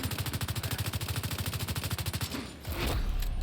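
In The Division 2, a rapid-fire weapon, the Bighorn, fires a long, steady burst of evenly spaced shots at close range, then the burst stops and a low rumble follows.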